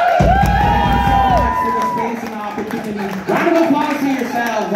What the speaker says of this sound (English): Round of applause for the DJ.